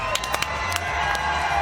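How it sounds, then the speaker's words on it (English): Studio audience at G4's live Comic Con 2011 show applauding and cheering as actor Rob Corddry returns, a dense steady roar of claps and shouts with sharp whoops poking through, loud and continuous. "There are thousands of people that clap for you."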